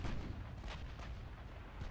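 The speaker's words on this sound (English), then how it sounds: "It's guns firing every second." Warship main guns fire in a naval battle game, with heavy booming blasts that roll into a dense, continuous low rumble, loud and unbroken, with no talk.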